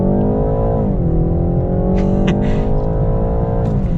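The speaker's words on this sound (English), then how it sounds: "So we're gonna get our acceleration here." The four-cylinder engine of a 2022 BMW 330i xDrive hums and rises in pitch as it accelerates, a steady loud drone heard from inside the car.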